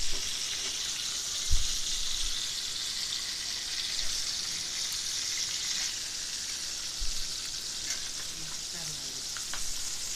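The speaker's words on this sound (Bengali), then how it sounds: "এখন আমি অল্প আঁচে মাছগুলিকে ভেজে নিব, যাতে করে মাছগুলি পুড়ে না যায়।" Fish frying in a pan on low heat, a steady soft sizzle that persists throughout, with occasional light clinks and stirring noises and no talking.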